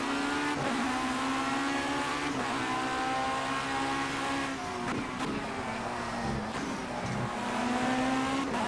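Race car engine in the racing video game Project CARS, droning steadily at high revs with pitch rising and dipping through gear changes, loud and continuous with no talk.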